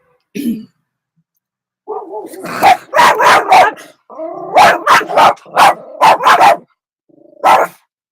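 Big dog barking loudly and close, several deep barks in irregular bursts with short pauses between them, separated by quiet gaps.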